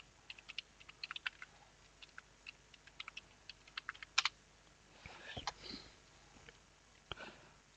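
Faint, scattered keystrokes on a computer keyboard, irregular close clicks tapping in short runs with brief gaps, and a few soft rustles near the end.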